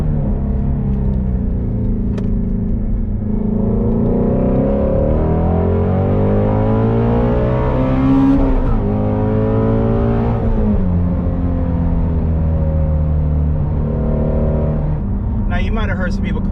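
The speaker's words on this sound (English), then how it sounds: "the sound of that flat plane crank V8" A Ford Mustang Shelby GT350's flat-plane-crank V8 drones loudly and steadily, its pitch rising and falling through revs as the car accelerates and lifts, with a brief sharper burst near the end.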